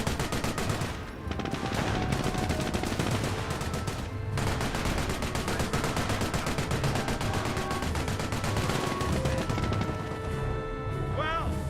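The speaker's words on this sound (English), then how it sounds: "Got the Bren MMG carrier firing away." Rapid machine-gun fire from a Bren MMG carrier in Company of Heroes, sustained clattering bursts over battle noise with a short pause around four seconds, loud and continuous.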